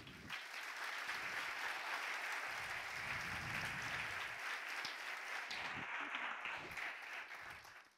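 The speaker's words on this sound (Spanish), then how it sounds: "¿Cuánto le dan un aplauso al Señor?" Church congregation applauding, sustained dense clapping from a large crowd, fairly soft and distant, holding steady for several seconds before fading at the end.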